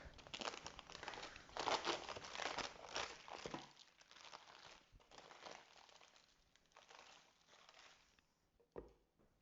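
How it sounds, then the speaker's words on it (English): Greaseproof paper crinkles and crumples loudly as it is peeled off a loaf of Irish brown bread topped with sesame seeds, busy rustling for several seconds, then quieter with a few soft handling sounds. "I'm just going to take off the greaseproof paper"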